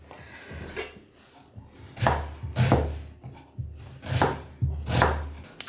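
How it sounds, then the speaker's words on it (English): A knife chops an onion into half moons for beef fajitas: about eight crisp, close strikes come in uneven bursts that grow louder toward the end, with no talking. "we also want to cut the onion into half moons"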